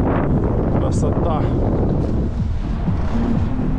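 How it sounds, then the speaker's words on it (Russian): Strong December wind in Adler, Sochi, buffets the microphone outdoors as a constant loud, low roar that fully covers any other sound. "Ух ты, ветер как задувает, смотри."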